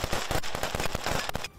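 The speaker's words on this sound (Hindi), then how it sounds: "जेलेंस्की के ये जवान जंगल में गोली चलाने का अभ्यास करते नजर आए।" Ukrainian soldiers firing weapons during shooting practice in a forest: a rapid, loud volley of close gunshots that stops abruptly near the end.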